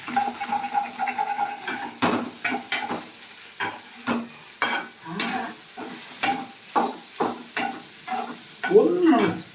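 Eggs fry in a home kitchen pan with onion and green chilli, crackling and sizzling as a utensil stirs and scrapes in quick, repeated strokes close by.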